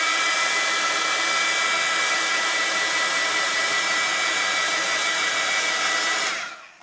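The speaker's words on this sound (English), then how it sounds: "I'm just going to blast this. So I'm just put my heat gun on." A heat gun blasts hot air onto plastic during a mixed-media craft project, a loud, steady close-up roar that holds without a break for several seconds, then quickly winds down as it is switched off.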